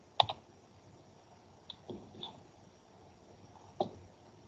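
Web address being typed on a computer keyboard, a few soft scattered clicks and taps with long pauses between them, faint and close in a quiet room.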